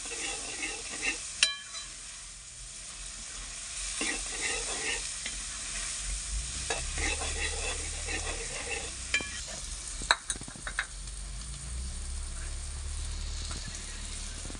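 Green chillies and tomatoes roasting in a pan for a homemade milk gravy dish, a quiet continuous sizzle with scattered clinks and scrapes of a spoon stirring, close up and without talk.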